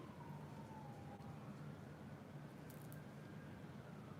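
A distant siren wails faintly, its pitch slowly sliding, over a low steady rumble of background noise.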